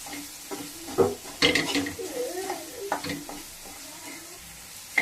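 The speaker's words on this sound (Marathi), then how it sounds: "हे छान परतून घ्यायचे मसाले." Spices sautéed in oil in a pan for pav bhaji, with a spoon scraping and stirring in bursts and a soft sizzle underneath, close and moderately loud, with a few faint vocal sounds.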